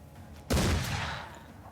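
A single loud gunshot in the Mordheim: City of the Damned game rings out after a quiet half-second and leaves a long, fading tail.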